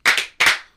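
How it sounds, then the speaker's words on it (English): Two sharp hand claps, evenly spaced and close, ringing briefly with no voices around them. "2 claps and a Ric Flair"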